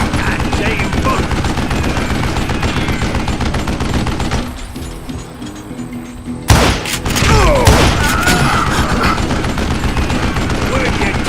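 Gunfire in the Call of Juarez Gunslinger video game: dense rapid shots and thuds crackle loudly, briefly drop to a quieter lull, then resume with a heavy boom and more shooting, with voices shouting over it.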